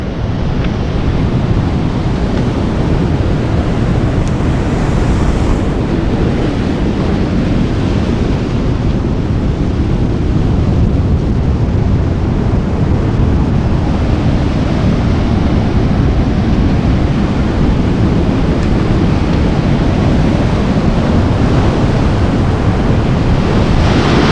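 Sea water washes in at the shore in a continuous, loud roar of surf, mixed with heavy wind buffeting the microphone, with no talk.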